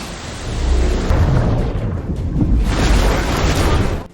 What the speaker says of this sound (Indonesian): Logan Ash juga memasang bom dan meledakkan kapal tersebut